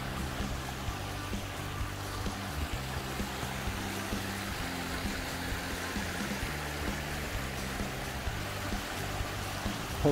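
Flowing water of the Areuse river stream, a steady broadband rush with faint lapping, continuous and fairly even throughout with no voices.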